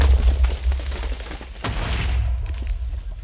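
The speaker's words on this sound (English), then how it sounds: "And it killed that pig and made a huge explosion." A huge TNT explosion in the Minecraft video game, a loud deep boom with rumbling low-end debris that sustains throughout, no talking over it.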